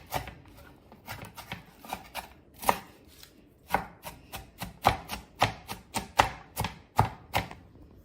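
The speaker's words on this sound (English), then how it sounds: "Preparing the onions, one large onion cut fine, small pieces" A knife finely chopping one large onion on a board for Jamaican oxtail, a steady series of crisp, fairly loud strokes with short gaps, no voices.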